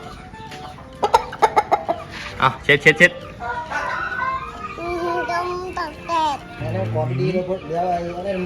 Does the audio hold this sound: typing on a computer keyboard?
no